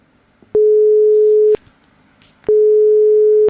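A telephone line signal sounds while calling: two long, steady electronic tones about a second each, separated by a pause, loud and clear over faint background.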